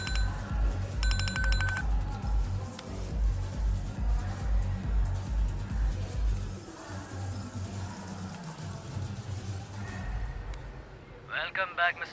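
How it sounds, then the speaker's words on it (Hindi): A phone rings in a Hindi-dubbed action film scene: short electronic ringtone bursts sound over a thumping music bed and background noise, with a second burst near the end. "योगी का फोन आ रहा है"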